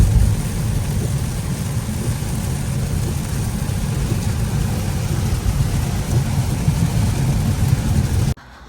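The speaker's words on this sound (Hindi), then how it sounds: "इतनी तेज बारिश हो रही है" Heavy rain pours steadily and loudly, a dense low roar of downpour that continues unbroken for several seconds, with no talking, and then cuts off abruptly at the very end.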